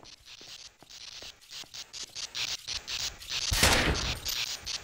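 Gunshots are fired at a fuse box in the video game GREY, heard as a rapid series of sharp cracks that ends in one bright, louder blast.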